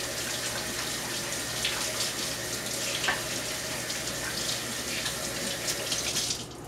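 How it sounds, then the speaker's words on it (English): A kitchen tap runs steadily into a sink while hands are washed, a constant close hiss of flowing water with small splashes, moderately quiet and uninterrupted. "Now let me wash my hands real quick."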